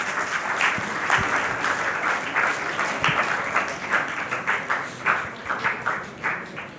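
A school audience at a heritage quiz semi-final gives a sustained round of applause for a student team, brisk clapping that rises and falls gently, continuing to the end.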